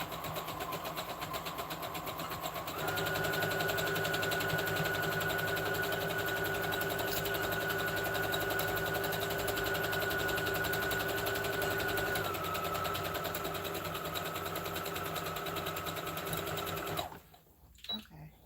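A sewing machine stitches fabric for homemade underwear, running continuously with a steady mechanical whir that speeds up in the middle and then slows before stopping near the end.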